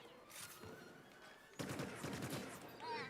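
Rapid bursts of scattergun SMG fire in the Star Wars Battlefront 2 video game, a dense rattle starting about halfway through over ongoing battle noise, with a brief voice in the mix.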